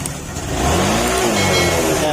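A Yamaha Soulty motorcycle engine revs up from idle and holds a steady, close, mid-pitched drone for a couple of seconds, with someone talking over it.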